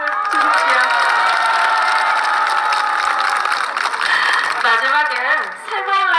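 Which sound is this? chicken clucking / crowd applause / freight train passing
crowd applause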